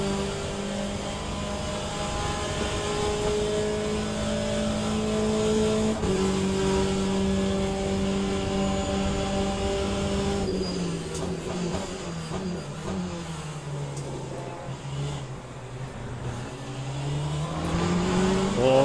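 Race car engines in the Le Mans Ultimate racing game, a loud sustained engine drone with rising pitch through the gears, a clear gear change, then deceleration and falling revs as cars run close together.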